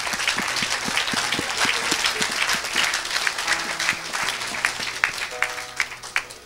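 A church congregation breaks into sustained applause at a preacher's urging, dense steady clapping filling the room with a few sharper claps standing out near the end over faint background music.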